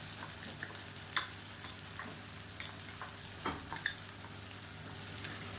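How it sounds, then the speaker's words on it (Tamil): Raw plantain roasts in oil with ground spice powder for a Tamil side dish, a soft, steady sizzle with faint occasional stirring clicks, fairly quiet and close. "இந்த எண்ணெயில் வந்து நல்லா ரோஸ்ட் ஆக்கிக்கலாம் இப்போ வாழைக்காய் நல்லா ரோஸ்ட் ஆகிடுச்சு"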